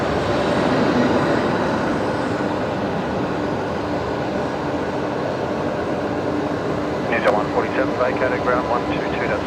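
Aircraft at Brisbane Airport produce a steady, broad jet roar that eases slightly over time, with a brief voice speaking near the end.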